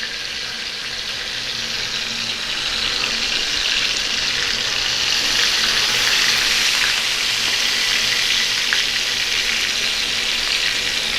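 Loud, even sizzle of Peshawari chapli kababs frying in oil in a pan, a dense hiss holding steady throughout with no talking.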